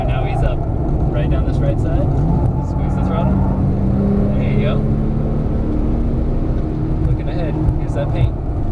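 A 2012 Porsche 997 S accelerates around the Las Vegas Motor Speedway track, its engine droning loud and steady with rising and falling pitch as it revs, while someone talks over it throughout.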